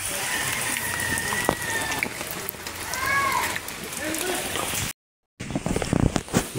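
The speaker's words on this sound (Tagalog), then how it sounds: "Grabe yung ulan dito. Sobrang sobrang lakas ng ulan." Heavy rain pours steadily in a dense broadband roar, with people talking underneath and a brief dropout before the downpour resumes.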